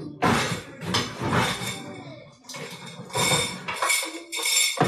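A cast iron pan being pulled out from among pots and pans in a home kitchen, with repeated loud metallic clanks, scrapes and rattles in several close bursts and no talk.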